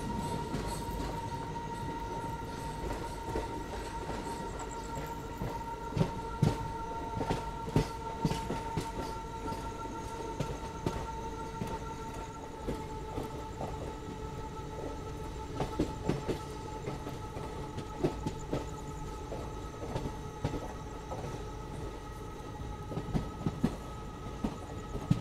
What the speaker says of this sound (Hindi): फरक्का बैराज को पार करते ही हमारी गाड़ी न्यू फरक्का जंक्शन में एंटर कर जाती है।